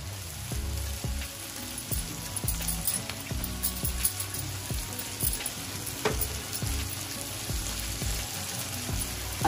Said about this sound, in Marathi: आता आपलं हे टॅमेटो आहे ना, याच्यामध्ये 2 मिनिटासाठी चांगलं परतवून घ्यायचं आहे।